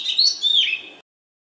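A male oriental magpie-robin (doyel) sings a sweet, melodious phrase of bright, sliding whistled notes, clear and close, lasting about a second before silence.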